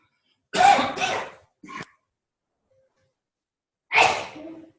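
A sharp, close sneeze-like burst, a brief smaller catch of breath, then another explosive sneeze after a quiet gap.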